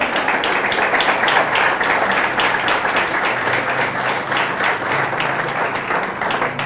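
A church congregation applauds during a sermon, a loud, sustained wash of many hands clapping together, steady and full from start to finish with no break.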